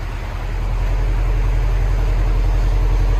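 A 2017 Subaru WRX STI turbo with dual exhaust and a resonator delete rumbles at idle, a deep, steady, pulsing burble that stays loud and close throughout.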